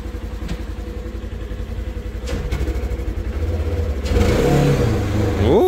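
A Massey Ferguson tractor engine runs steadily with a pulsing mid-pitched drone close by, then revs up a few seconds in and rises again near the end.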